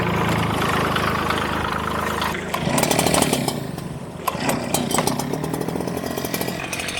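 An Echo PB9010 two-stroke backpack leaf blower whines loudly alongside the steady diesel drone of a Grasshopper 721D mower, a continuous close engine roar that shifts in pitch partway through.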